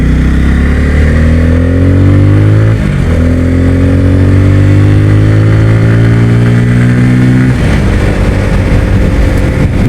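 A Bajaj Pulsar N250 motorcycle accelerates hard on a test ride, loud and close. The engine revs climb steadily through one gear, dip briefly at a shift, climb again, then shift once more.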